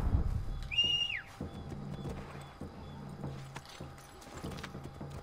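Steady clip-clop of horse hooves at a walking pace in Assassin's Creed III Remastered, with a short whinny and a whistle-like tone near the start over soft background ambience.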